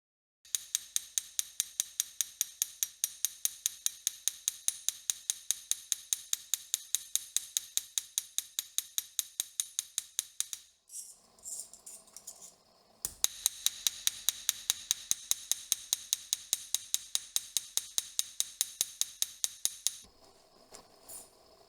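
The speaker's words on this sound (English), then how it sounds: "I use the flat, sharp heads of this hammer to create line patterns that can be parallel, crisscrossing," Sharp-headed hammer striking a brass and silver pendant to texture line patterns, a fast steady run of crisp metallic taps, close and loud, with a brief pause midway before the rapid tapping resumes.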